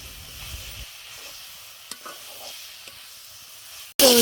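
Fried hilsa fish and taro stolons are stirred together in a cooking pan, producing soft scrapes and a faint sizzle with quiet gaps, and a loud burst of frying at the very end.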